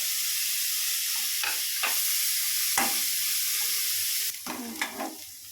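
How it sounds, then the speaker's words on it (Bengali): Garlic paste tipped into onions frying in a pan sizzles steadily, with a few scraping stirs partway through and a louder burst of sizzling and clatter near the end. "এই যে একটু রসুন বাটাও এটাতে দিয়ে দেব।"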